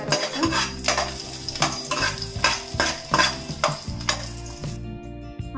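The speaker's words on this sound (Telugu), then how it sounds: "గార్లిక్ యాడ్ చేస్తున్నాం. ఆయిల్ హీట్ అయిన తర్వాత గార్లిక్ యాడ్ చేయండి." Garlic and ginger sizzling in hot oil in a pan for veg Manchurian, with a steady frying hiss and repeated close stirring clatter of a spatula, loud throughout.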